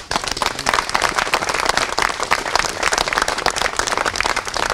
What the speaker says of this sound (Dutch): En daar voor hen zou ik graag een applaus willen.